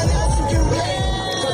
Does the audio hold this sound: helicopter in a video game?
no